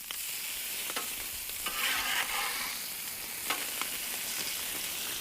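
Bacon frying in a pan gives a steady crackling sizzle, with occasional sharper pops and spatters rising above the hiss.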